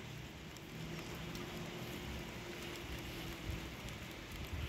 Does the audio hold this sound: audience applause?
no